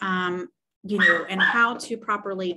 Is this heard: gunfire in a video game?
no